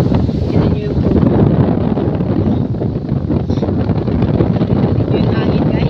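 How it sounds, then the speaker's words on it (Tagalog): Strong wind buffets the microphone on a hilltop at Rodriguez Nature Park, a loud, constant roaring rush across the whole clip with no break. "Kung gaano kalakas yung hangin dito sa taas."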